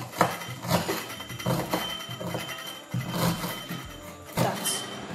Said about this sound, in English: chop my ginger into pieces